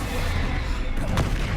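A Confringo spell blast in the Hogwarts Legacy video game makes a dense, booming burst of crackling explosive noise. It stays loud and close for under two seconds, with a sharper pop near the end.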